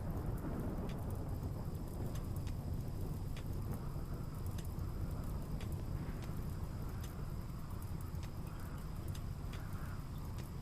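Steady rain pours in RimWorld, a dense continuous hiss with a deep rumble of thunder rolling underneath, and scattered sharp drops ticking through the downpour.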